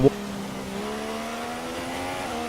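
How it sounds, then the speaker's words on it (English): Race car engines in the F1 2016 video game whine at high pitch, with a sustained rising note as the car accelerates through its gears during a two-lap sprint. "it's a 2-lap race after the safety car goes in and when Lewis Hamilton goes as well."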